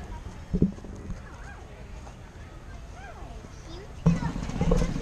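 Horses at the 173rd Canfield Fair in 2019 give a couple of whinnies among clip-clopping hooves, heard close by against crowd murmur and nearby voices that rise sharply toward the end.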